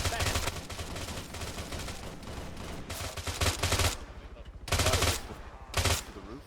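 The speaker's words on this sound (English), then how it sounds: "we're taking fire through the roof" Bursts of gunfire in the ArmA 3 video game, with dense sustained volleys and several loud separate bursts near the end, alongside voices and background noise.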